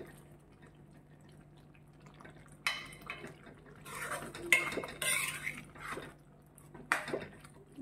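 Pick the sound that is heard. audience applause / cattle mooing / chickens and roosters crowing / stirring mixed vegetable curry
stirring mixed vegetable curry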